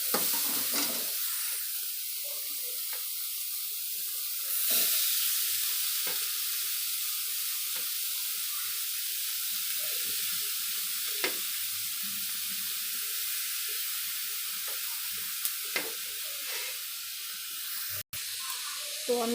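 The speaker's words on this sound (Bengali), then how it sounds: "তো আমি বিনসটা আর গাজরটা এখন দিয়ে দিয়েছি। এটাকে হালকা করে একটু মানে ভেজে নেব" Chopped carrots and beans frying in a pan with capsicum for vegetable cutlets, a steady soft sizzle with occasional stirring scrapes, close by and fairly quiet throughout.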